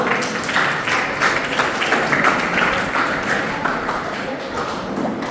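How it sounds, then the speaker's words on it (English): Loud, close school-audience applause for a guest speaker at a public school, dense rapid clapping from many students sustained throughout with a boomy, reverberant hall quality. "Let's have a huge round of applause for Anupam."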